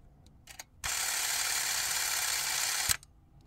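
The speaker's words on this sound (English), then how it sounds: "So when you pull the trigger right here, the motor runs." A 1960s Super-8 film camera motor runs for about two seconds, a close, even, high whirring buzz that starts and stops sharply, framed by small clicks of the trigger and handling.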